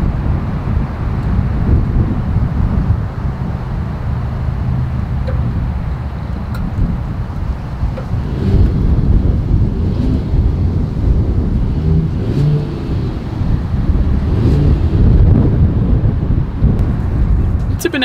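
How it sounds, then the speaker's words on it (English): Exhaust note of a 2022 Mercedes-Benz GLS 450 SUV, a steady low rumble with mild revving swells and some wind buffeting on the microphone, heard up close and alone for about eighteen seconds. "As always, here is that exhaust clip."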